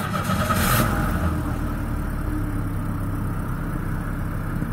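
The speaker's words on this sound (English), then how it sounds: "So, the car's going." A car engine runs steadily with a continuous low hum and some road or wind noise, with a brief brighter burst near the start and no talk.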